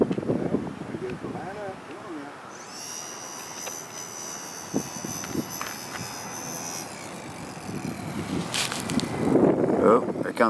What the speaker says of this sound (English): Oh, there comes some gusts.